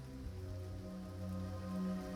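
Soft, continuous patter of rain on a dark, rainy morning, a faint even wash of drops under a low steady hum, with no voices.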